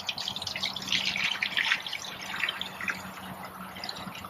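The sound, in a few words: water poured into Berkey Travel water filter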